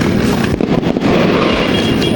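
Fireworks burst during a half marathon fun run on Samal, with a dense, loud crackling and popping that carries on throughout.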